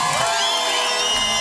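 Live audience at a polka band show applauding and cheering loudly, a dense wash of clapping with whoops and shouts throughout.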